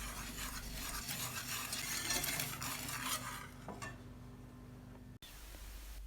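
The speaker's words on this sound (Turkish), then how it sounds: "Bir tencereye 2 yemek kaşığı dolusu un, 2 yemek kaşığı dolusu nişasta, ve bir su bardağı şeker koyalım karıştıralım" A spoon scrapes and stirs dry flour, starch and sugar in a pot with a steady soft rustling, close by, followed by a brief knock and quieter background.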